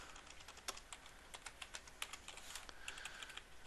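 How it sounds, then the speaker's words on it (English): Keys clatter on a computer keyboard in close, irregular bursts, sharp individual clicks spaced unevenly across a few seconds with no voices. "I'm just going to use my arrow keys"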